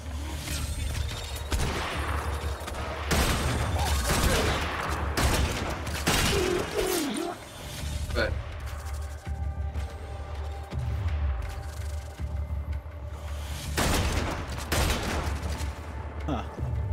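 Rapid bursts of gunfire from the Warframe game's open-world Plains of Eidolon fighting Grineer enemies, dense and continuous volleys throughout, with players talking over the shooting.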